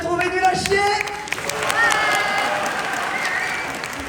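A crowd applauding at a live show, heard as a fairly even spread of clapping from many people alongside some cheering, with a few tonal sounds and brief voices over the top.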